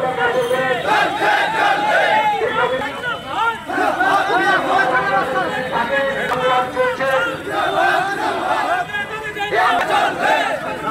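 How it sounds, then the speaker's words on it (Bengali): A protesting crowd of law clerks blocking a road, with many voices chanting and shouting together in loud, continuous waves, rhythmic slogans rising and falling close by throughout. "মিছিল করে এসে রাস্তা অবরোধ করে বিক্ষোভ দেখানো"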